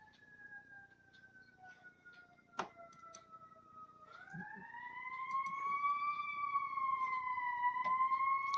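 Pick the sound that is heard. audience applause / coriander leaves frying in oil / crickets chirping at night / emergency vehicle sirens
emergency vehicle sirens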